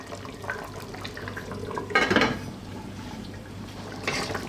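A lid is set back onto a pot of tomatoes simmering on low heat, making a brief metallic clatter midway over a quiet kitchen background, followed later by a softer clink.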